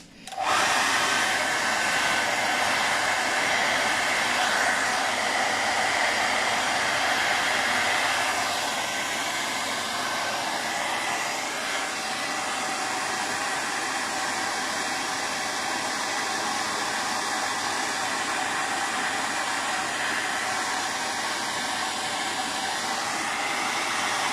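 A hair dryer blows steadily and loudly at close range to dry a painting made with essential oils, a constant whooshing roar that holds without pause for over twenty seconds, heard alone.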